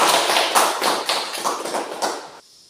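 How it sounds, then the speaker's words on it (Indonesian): Classroom applause from students, a dense burst of many hands clapping steadily for about two seconds before stopping abruptly. "Mari kita berikan aplaus untuk dia."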